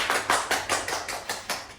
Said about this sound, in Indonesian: Tepuk tangan untuk Bung Ayu.